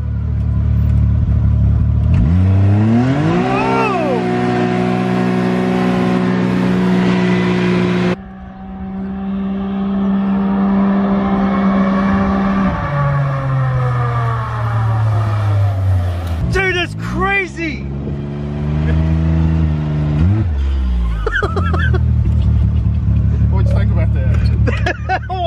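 A 2021 Ford Mustang Mach 1 with 500 horsepower revs loudly up and down in several rising and falling sweeps, the engine close and dominant, with someone talking over parts of it.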